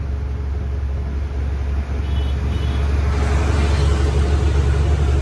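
A JCB backhoe loader travels along the Khandala ghat road, its engine a low rumble that swells and grows louder as it draws near, set against steady roadside background noise.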